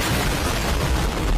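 A firecracker goes off inside a child's helmet in a cartoon, giving a dense, loud crackling burst that fills the whole moment with continuous popping noise.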